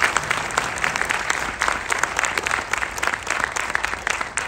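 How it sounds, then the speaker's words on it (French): A festival crowd at the opening of Vues d'Afrique in Montreal applauds warmly, loud, close and sustained clapping with crisp individual hand strikes standing out throughout. "j'aimerais qu'on puisse les applaudir chaleureusement"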